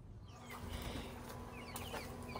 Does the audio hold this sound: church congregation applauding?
no